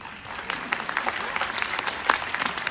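Audience applause at a financial advisors' MDRT Day 2018 conference, a steady crowd clapping with scattered sharper claps, fairly close and sustained throughout.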